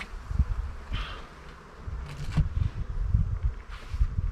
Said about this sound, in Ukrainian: Можу зараз бути бджоли агресивні.